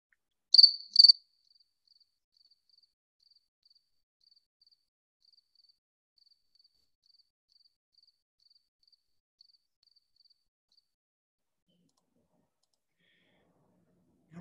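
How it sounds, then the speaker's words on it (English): A field cricket chirps alone in near silence, two brief loud bursts followed by a long train of faint, evenly spaced high chirps fading out over many seconds. "Here's an other type of cricket that you could hear there."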